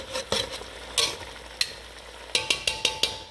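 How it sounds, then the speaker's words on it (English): A metal utensil scrapes and stirs the bottom of a pot roast pan as the liquid comes up to a boil, giving a handful of sharp scraping strokes, spaced at first and then in quick succession, over a soft background sizzle. "Let's come up to a little bit of a boil there, breaking off all the stuff in the bottom of the pan."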